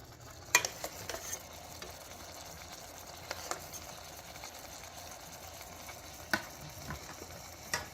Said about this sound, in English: we are now going to add our pasta sauce here